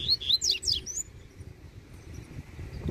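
A coleiro (Sporophila caerulescens) songbird outdoors sings a quick run of bright, high chirping notes in the first second, fairly close and clear above a low, steady background rumble.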